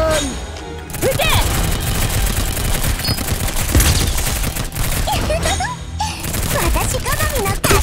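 Dense rapid gunfire from the Girls' Frontline game, with a continuous roar of automatic shots and crashes under whistling projectile sounds, loud and sustained.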